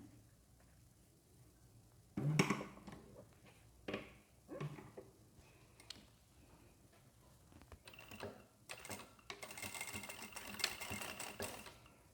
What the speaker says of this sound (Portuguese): E vou pregar com uma costura de segurança, que é meio pezinho de máquina